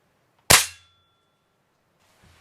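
A Ruger Air Hawk Elite II air rifle, a heavy break-barrel gun weighing five to eight pounds, fires one sharp, loud crack with a short ringing decay, then silence.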